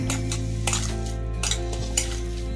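Papaya pakora batter being mixed in a bowl, with soft stirring and several light clinks of a utensil against the dish over a steady background hum.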